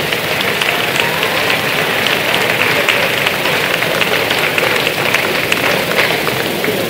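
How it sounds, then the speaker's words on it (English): Dense, sustained applause from a crowd in a gym at a high school boys basketball senior night, steady and loud throughout. "Big round of applause, please."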